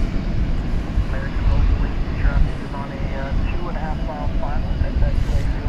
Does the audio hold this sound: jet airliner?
yes